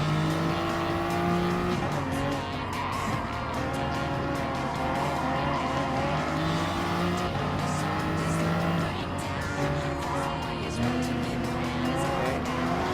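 Race car engine roaring with squealing tires in Gran Turismo Sport, passing a Honda NSX during an endurance race; the engine drones and shifts pitch continuously and loudly, with tire squeal threaded through.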